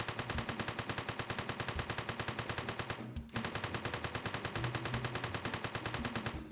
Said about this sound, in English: we're gonna fire at this wall to showcase the recoil pattern